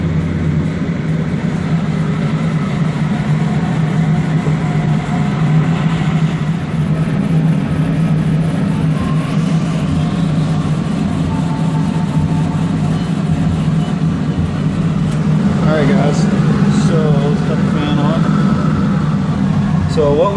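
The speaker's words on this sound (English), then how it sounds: "Cut on our exhaust fan" A fiber laser engraver marks custom titanium key bars while its exhaust fan runs, giving a steady, close whirring drone with a low hum underneath and a few faint tonal squeals near the end.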